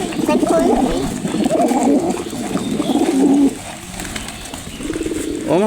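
Pet pigeons, including a black one, coo in a rumbling, pulsing run up close, with a pause near the end and voices heard faintly under the calls.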